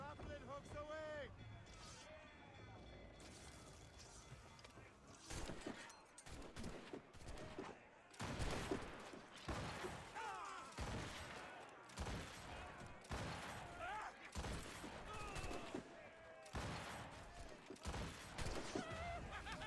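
Ship cannon fire from a naval battle in Assassin's Creed Rogue, a series of sharp booming volleys in rapid succession over wind and sea noise, with shouted orders from the crew.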